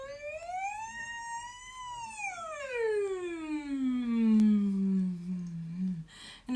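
A voice imitates a siren with a sliding hum while chewing during a vocal warm-up, rising slightly then gliding down low, thick and muffled as if mouth is full.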